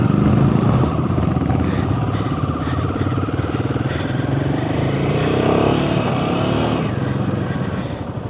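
A Royal Enfield Himalayan 450 motorcycle rides along with a steady, loud engine drone and rumble, its pitch shifting gently throughout, with no talking over it.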